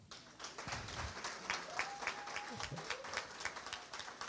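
An audience claps for the fellowship program's organizer at a Mandela Washington Fellowship panel event, sustained crowd applause with a voice talking faintly underneath.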